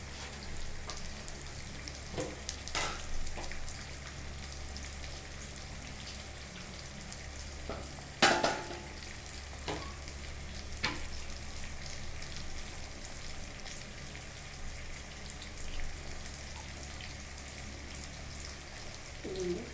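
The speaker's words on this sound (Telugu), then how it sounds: "పులుసు మరుగుతుందని చూద్దామండి మరుగుతుంది" A soft, steady bubbling simmer from fish curry in a pan with occasional pops and a low hum, heard close and fairly quiet.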